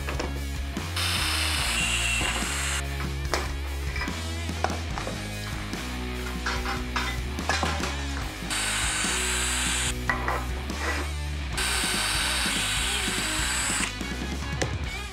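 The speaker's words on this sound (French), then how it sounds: "Je viens de terminer de faire les trous dans les profilés aluminium ici" A power drill bores holes through aluminium profiles in bursts, with loud whining runs broken by short pauses and clattering handling of the metal pieces, and no voices.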